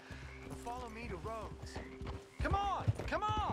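A horse's hooves clip-clop at a steady pace while riding in the Red Dead Redemption 2 video game, the regular beat running beneath continuous talking.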